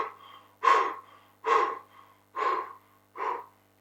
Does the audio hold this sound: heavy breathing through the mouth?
yes